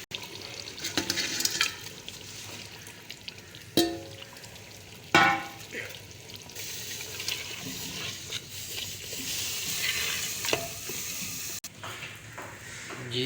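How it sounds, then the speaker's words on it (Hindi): Goat meat frying with masala in a pot, a watery sizzle and bubbling with several loud clanks of a spoon against the metal, close and continuous. "जी, तो हम इसे तकरीबन 15 से 20 मिनट तक भूनेंगे अच्छी तरह।"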